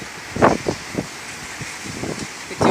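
Strong wind gusting on the Batumi seafront, rushing in uneven bursts that rise and fade against a steady low roar, loudest near the start and end.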